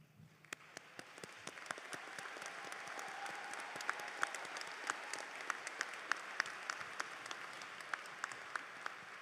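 High school commencement crowd applauding graduates standing for honors, a soft, distant patter of many hands that slowly builds and stays steady, with sharper individual claps standing out nearby.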